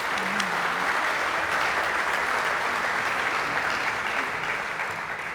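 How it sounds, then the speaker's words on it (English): An audience at a symphonic band's season finale concert claps steadily during an awards segment, a dense, sustained wash of applause that stays even before easing slightly at the end. "Round of applause to you guys."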